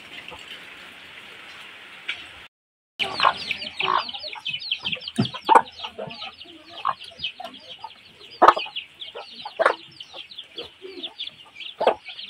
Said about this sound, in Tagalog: Meron naman kaming mga sisiw na maliliit.